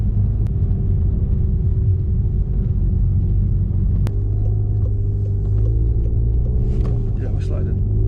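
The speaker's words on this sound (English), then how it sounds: "Oh, we're fucking sliding." A modified Golf R sliding on snow, heard from inside as a loud steady engine and road rumble, with people talking over it.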